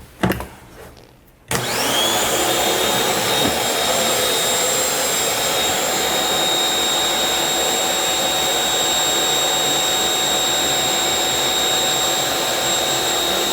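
An Active 2.0 electric pressure washer kicks on after a quieter moment and then runs steadily with a loud, constant high whine and hiss. The motor tone stays even, close and uninterrupted to the end.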